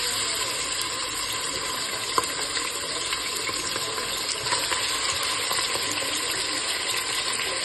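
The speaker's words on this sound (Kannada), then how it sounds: "ಇವಾಗ ಎಣ್ಣೆ ಕಾಯ್ತಿದೆ, ಮಟನ್ ಹಾಕೊಳ್ಳೋಣ." Hot oil steadily sizzles and crackles in a pressure cooker as mutton goes in for mutton sambar, an even, close frying hiss lasting throughout with no voices.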